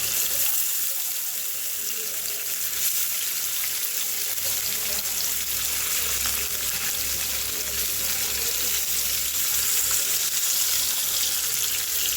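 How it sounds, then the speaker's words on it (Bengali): Pieces of rohu fish coated in chili, turmeric and salt frying in hot oil, a steady dense hiss and crackle that runs unbroken and fairly loud throughout. "আমি মাছ ভাজার জন্য মাছগুলো দিচ্ছি"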